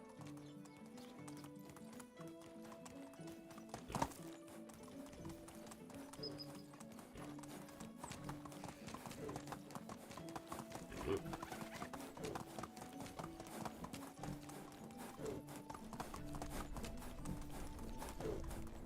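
A horse gallops in Medieval Dynasty with a steady, rhythmic clip-clop of hooves that runs throughout, close and even-paced, while faint game music and ambience play underneath.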